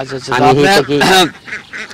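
Loud, nasal honking calls from ducks on a duck farm, several overlapping cries in quick succession, close by with no talking.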